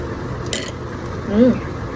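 A spoon scrapes and clinks softly against a dish as black chili paste is scooped in, a quiet close-up sound heard over faint room noise.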